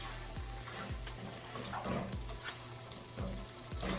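Noodles with chicken fry and get stirred in a pan, a quiet steady sizzle broken by soft scraping stirs and a few low knocks, close and without talk.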